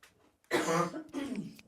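A single rough cough followed by a throat-clearing sound, close and fairly loud, with silence before it.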